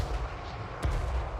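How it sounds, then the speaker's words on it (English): Cannons fire in a Total War Warhammer 3 battle as a distant, low rumble of artillery, with one sharper boom near the middle. "The cannons are doing their thing."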